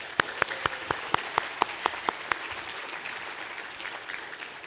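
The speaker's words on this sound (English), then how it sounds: "can I get a big round of applause for BelTech 2026?" A small audience at the BelTech 2026 tech conference claps for a few seconds, sharp distinct claps that thin out and stop, leaving quiet room tone.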